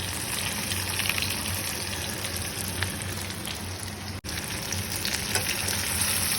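Vegetables added to a hot pan of lightly browned oil, frying with a dense, steady close sizzle and faint stirring clinks throughout, no talk.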